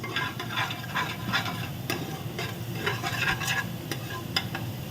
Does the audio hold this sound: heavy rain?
no